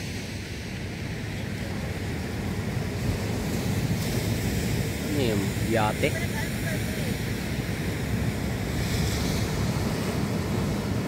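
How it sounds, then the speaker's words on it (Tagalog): Large ocean waves wash around a boat at sea heading toward Fortune Island, a steady broadband rush mixed with wind buffeting the microphone, with people talking over it. "Lalaki ng alon."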